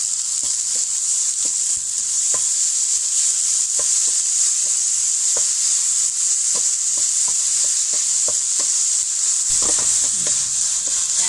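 Grated coconut and sugar being stirred and dry-roasted in a pan, with a steady bright sizzle under irregular scraping taps of the spatula against the pan, continuous and close, no talking.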